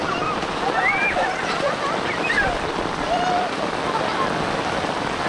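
Steady, dense hiss of heavy rain pouring down, continuous throughout, with faint chirps and voices in the background.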